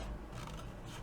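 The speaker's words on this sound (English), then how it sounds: "So I'm just going to cut that part off." A short, quiet snip-and-rub of scissors cutting through paper ephemera, heard close up and alone.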